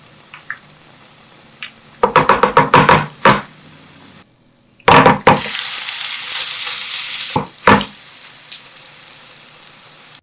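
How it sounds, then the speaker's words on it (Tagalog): Squash okoy fritters frying in butter and oil over medium heat, with bursts of loud crackling sizzle and a few clattering knocks of a utensil against the pan, a brief quiet gap, then steady bubbling frying. "Pirituhin natin to into medium heat hanggang sa lumutong ito."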